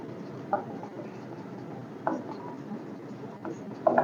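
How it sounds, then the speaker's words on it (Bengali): Pen writing on paper during a class nine trigonometry lesson, a steady, soft scratching close by with a few brief louder taps. "তো আমরা এগুলো লিখি"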